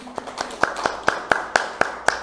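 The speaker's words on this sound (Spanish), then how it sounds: "Aplauso." Slow, evenly spaced hand claps ring out one after another after a Spanish-language talk on the sangha, about nine distinct claps in a steady rhythm, fairly close.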